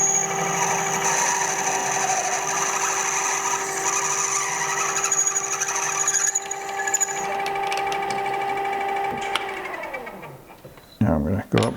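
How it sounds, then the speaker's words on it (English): Power drill boring a quarter-inch hole in acrylic, a steady whining motor hum that winds down near the end, followed by brief handling clatter. "So I'm going to sneak up on the 1/4 inch hole by starting with the next drill size smaller."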